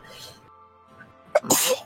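One sharp, loud sneeze bursts out near the end after a quiet stretch with faint background tones.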